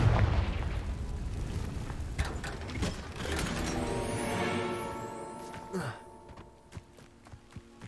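A Confringo blasting spell in Hogwarts Legacy detonates with a loud burst, followed by a rumbling, crackling explosion that decays into mechanical clanks and debris rattles over several seconds.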